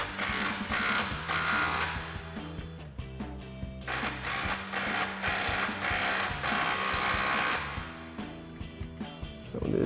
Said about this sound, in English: when you're doing your final tighten down, you do want to grab a 14 millimeter wrench as well for the bolt heads